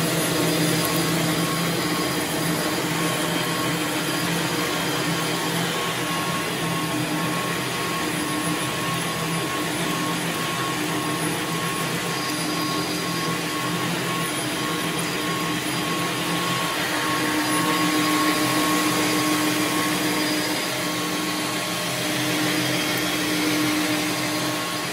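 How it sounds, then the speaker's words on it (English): A wooden ice cream stick chamfering machine, set for 140 mm sticks, runs with a loud, constant mechanical whir and hum, steady and unbroken throughout with no talking. "In this video, it is for 140mm ice cream stick chamfering."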